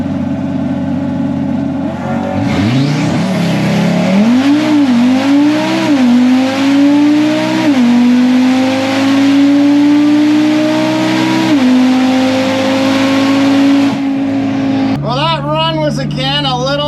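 An 800-horsepower Audi RS3 launches down a drag strip during bracket racing, its engine rising loud and close through rising, shifting revs before fading into a sustained high drone, with crowd and announcer noise throughout.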